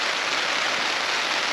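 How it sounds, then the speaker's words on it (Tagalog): Steady, dense rain pours onto a tarp at a raw motocamping campsite, a continuous even hiss filling the whole moment with no voices. "Sarap habang bumubuhos yung ulan."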